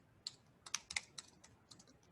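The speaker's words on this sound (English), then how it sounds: "Sorry, I'm not that fast in typing." Quick, irregular keyboard clicks, a handful of keystrokes in short bursts, fairly quiet and close, with no talking.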